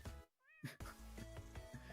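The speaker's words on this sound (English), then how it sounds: "There's a cat apparently in the room." A cat meow played from a soundboard during a Splatoon Low Ink tournament broadcast: a single short, clear meow rising out of a brief quiet gap, followed by continuing background game music.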